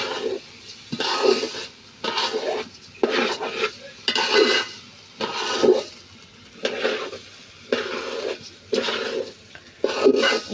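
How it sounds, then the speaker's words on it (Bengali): Pulao rice frying and being stirred in a pot for biryani, with repeated scraping, rustling bursts at a steady rhythm and brief pauses between strokes, close and fairly loud. "আমি সুন্দর মতন আমি পোলাওটা ভেজে নিচ্ছি"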